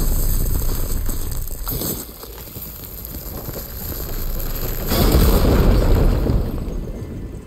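A fiery firegleam explosion set off in the Horizon Forbidden West video game, a loud rumbling boom that swells and crackles with a burst near the two-second mark and a heavier blast around five seconds, with no talking.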